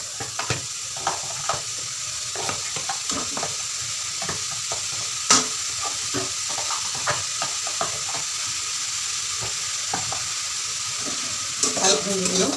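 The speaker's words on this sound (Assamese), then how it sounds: "নাৰিকলখিনি ধুনীয়াকৈ লাইটলি ভাজা হৈ গৈছে" Grated coconut fries lightly in a pan for a pati sapta filling, with a constant soft sizzle broken by repeated scraping strokes of a spoon stirring it.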